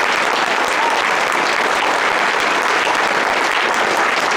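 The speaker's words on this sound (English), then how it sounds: "Can we have a round of applause for the fan question?" A convention audience at a Red Dead Redemption cast panel claps in a dense, sustained burst of applause that stays loud and even throughout.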